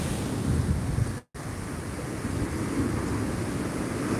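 Large typhoon waves from Typhoon Opong pound a seawall along a coastal boulevard in Bicol, a continuous heavy roar of surf and wind that cuts out for a split second before resuming.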